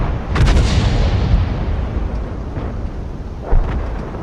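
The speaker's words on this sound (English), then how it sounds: "Probably artillery." Artillery fire in a video game, a series of heavy booming blasts and rumbling impacts rolling on loudly for several seconds with no voices.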